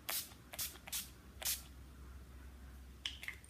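Several short hissing spritzes from a spray bottle, three quick bursts close together, then a softer pair of sprays after a pause.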